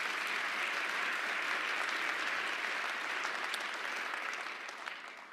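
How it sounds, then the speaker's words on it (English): Sustained, dense applause from a large audience at a New York City mayor's State of the City address, steady and full for several seconds before easing slightly at the end. "Let's give all of them a round of applause."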